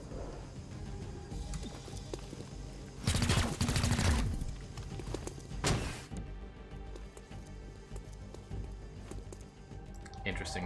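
Gunfire in XCOM Chimera Squad, a short loud burst of shots followed by a second brief volley, set against game music and effects with someone talking.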